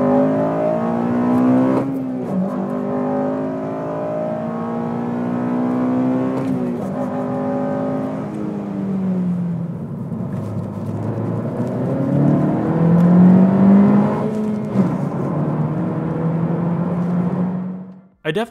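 A 2017 Honda Civic Si's 1.5-litre turbo engine revs hard and accelerates, its pitch climbing through several gear shifts, loud and close.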